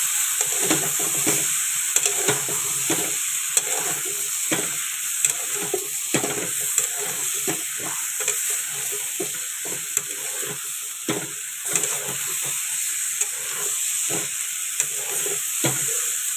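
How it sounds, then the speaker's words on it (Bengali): Papaya and carrot being stirred in a frying pan, a steady hissing sizzle with a bright high tone throughout, punctuated by regular scraping knocks of the utensil over sixteen seconds. "দিয়ে ভালো করে নেড়ে চেড়ে নিচ্ছি"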